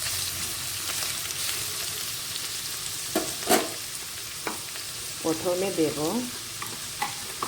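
Ridge gourd fries in a pan for a coconut curry, with a steady sizzle and several spatula scrapes and knocks as it is stirred. A voice talks briefly partway through.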